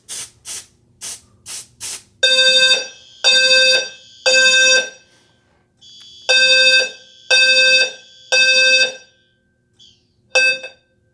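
A home fire alarm system sounds during a walk test of an annual inspection, with several quick short bursts followed by loud repeated long tonal blasts in a steady rhythm, a pause, then more blasts and a final short one.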